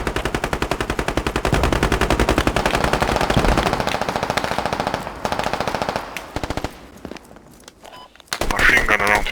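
Rapid machine gun fire in the tactical shooter Squad, loud and close, hammering out in long, evenly pulsing bursts that taper off into scattered shots and quieter shuffling before a final noisy flurry.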